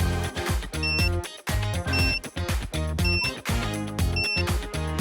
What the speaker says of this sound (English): Press the curling button until it starts beeping.